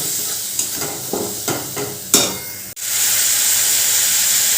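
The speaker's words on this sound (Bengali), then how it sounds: "এবার যে মশলার পেস্টটা বানিয়েছিলাম সেটা দিয়ে দিলাম তারপর টমেটোটার সাথে এটা ভালো করে কষিয়ে নিতে হবে" Spice paste and tomato frying and being stirred in a pan, with clear rhythmic scraping strokes over a steady close sizzle that swells into a loud continuous hiss near the end.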